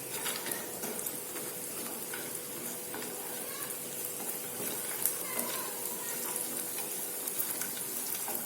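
Almonds, cashews and cardamom sautéing in a pan for carrot halwa give a steady soft sizzle with faint scraping stirs and small pops, quiet and close, running throughout.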